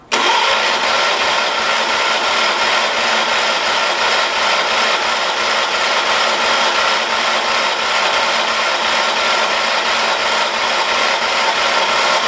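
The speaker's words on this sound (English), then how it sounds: "let me choke this, and let's see if we can get it to start." The small engine of a 1978 John Deere 316 lawn tractor starts and runs loud and close, with a steady rapid pulsing throb and no voices.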